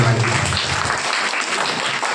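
Congregation clapping hands during a Telugu fasting prayer service led by a pastor, steady dense applause filling the space, with a low voice or hum briefly underneath at the start.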